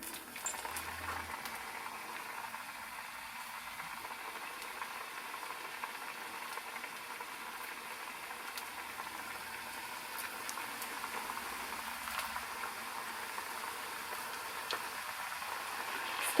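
Vadai frying in hot oil over a medium flame, a soft, steady bubbling sizzle that carries on evenly throughout, fairly quiet, with no voices.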